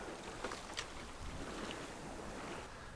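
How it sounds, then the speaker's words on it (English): A sailboat under both sails off northern Denmark, between Hals, Sæby and Skagen, moving at around 5 to 6 knots, with a steady rush of wind and water throughout and a couple of brief splashes. "We are sailing along nicely with both sails up now."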